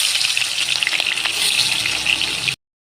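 Pieces of fish rubbed with salt and turmeric sizzle loudly in hot oil, a steady, close, bright crackling hiss that continues without a break before cutting off abruptly.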